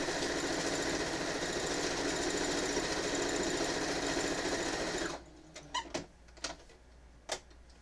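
A sewing machine running fast and continuously while binding a quilt, a loud steady mechanical hum for about five seconds, then stopping, with a few scattered clicks and handling knocks afterward.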